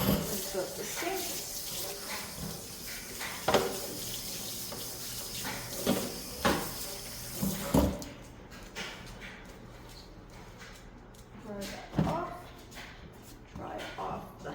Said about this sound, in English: Quickly rinse out the sink.